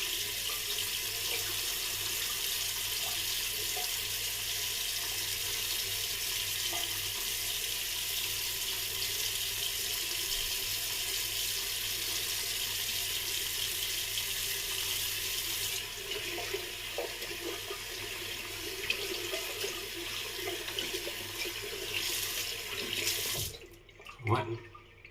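Water runs steadily from a bathroom tap during a shave, a close, constant hiss and splash that continues unbroken for about twenty seconds, then shifts briefly with handling noises near the end.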